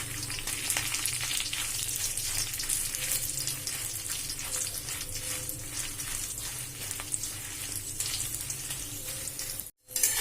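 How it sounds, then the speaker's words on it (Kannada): Dried red chillies fry in hot oil with a steady, loud crackling sizzle that runs unbroken for about ten seconds, cutting out briefly just before the end. "ಮೆಣಸಿನ್ಕಾಯಿ ನೋಡ್ರಿ ಎಣ್ಣೆ ಒಳಗೆಲ್ಲ ಏನವ ಚಲೋತ್ನಂಗೆ ಹುರಿದಾವ"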